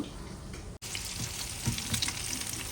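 Shrimp and fish fry together in hot oil with a dense, continuous sizzle and crackle, broken by a brief instant of silence near the start, with a few soft knocks.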